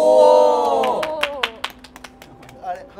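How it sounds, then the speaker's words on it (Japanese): An audience breaks into sparse handclaps right after excited voices. A handful of separate claps ring out close by and thin out over a couple of seconds. "あれ、拍手だ。"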